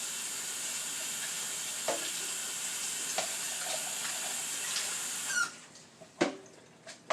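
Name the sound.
washing out a container under running tap water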